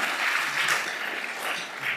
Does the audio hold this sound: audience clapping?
yes